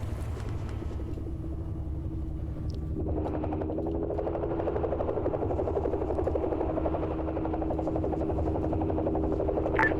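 A Mi-26 heavy-lift helicopter flies in a video game, its steady rotor and turbine rumble droning continuously and growing slightly louder partway through, with no talk over it.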